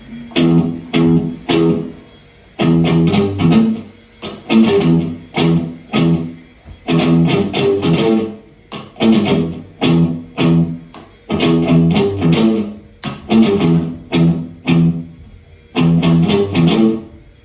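A distorted electric guitar plays a short, repeating single-string riff of chugging notes in bursts, loud and up close, with brief pauses between phrases.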